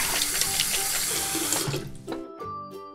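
Water runs from a sink tap for hand washing, a steady splashing hiss that stops abruptly partway through, followed by faint clicks and squeaks.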